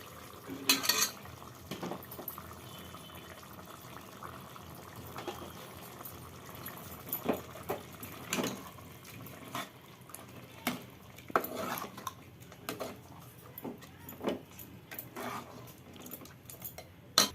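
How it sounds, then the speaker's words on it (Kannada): Ground masala being added to a pot of mutton sambar with field beans, with intermittent spoon scrapes and clinks against the pot over a faint simmer, sporadic and fairly quiet. "ಈಗ ರುಬ್ಬಿರೋಂಥ ಮಸಾಲೆನ ಹಾಕೋತಾ ಇದ್ದೀನಿ"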